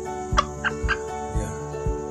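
A Batik Kanada breed chicken with a sore eye gives several short throaty calls at a steady spacing, close to the microphone, set against a faint constant background hum.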